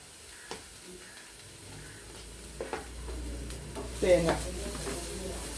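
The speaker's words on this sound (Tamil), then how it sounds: "அதுக்காக தேங்காய் போட்டுட்டு அவ்வளோதான் தாளிக்கிறது" Onion and coconut sizzle as they are tempered in a hot pan for a sweet corn and snake gourd usili, with a soft continuous fry and a few stirring clinks, faint throughout.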